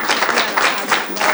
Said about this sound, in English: I want to give the panelists a big round of applause and everyone who drove out here today for coming